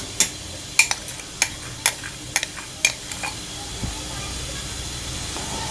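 Milk boiling in a pot with almond liquid poured in, giving a steady hiss of steam broken by sharp, regular clinks of a utensil against the pot, close and fairly loud.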